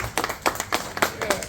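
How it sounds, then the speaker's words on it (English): Short burst of audience clapping at an indoor convention event, a scattering of distinct hand claps from a modest crowd, brief and moderately loud. "Let's give them a round of applause."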